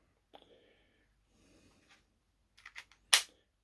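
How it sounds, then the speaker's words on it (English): Cocking a brand-new, stiff KWC P.08 Luger gas blowback airgun: a few close, sharp metallic clicks and slide clacks, ending in one louder snap, with soft handling noise between. "it tells you you have to cock the gun in order to make it work"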